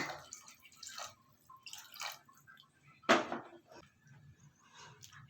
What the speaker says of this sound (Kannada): ಮತ್ತೆ ಇನ್ನೊಂದು ಲೋಟ ನೀರು ಹಾಕ್ತಾಯಿದ್ದೀನಿ ನಾನು